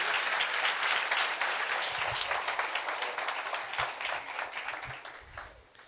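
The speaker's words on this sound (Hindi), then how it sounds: "आए जोरदार तालियां उसके जलाल के लिए।" Loud, sustained applause from a large church congregation, dense clapping that stays steady before slowly tapering off toward the end.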